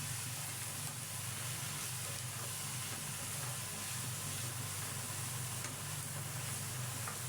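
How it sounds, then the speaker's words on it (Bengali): Onion and ginger being stir-fried in a pan while mushrooms cook, a steady, even sizzle with soft stirring scrapes running without a break and no voices. "পেঁয়াজ আদা যেগুলো দিয়ে ভাজলাম সেটা দিয়ে ভালো করে নাড়াচাড়া করে"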